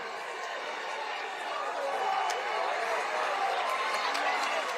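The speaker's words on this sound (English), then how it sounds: "And the crowd is buzzing." Crowd noise fills the stands at a Friday night high school football game between Hilton and Victor, a steady broad murmur from many distant spectators that stays even and moderately loud throughout, with faint sharp ticks poking through.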